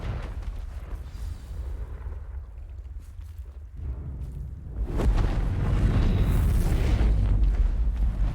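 A Confringo fire spell blows up with a deep, rumbling boom in Hogwarts Legacy, swelling halfway through into a loud, sustained roar after a quieter lead-in.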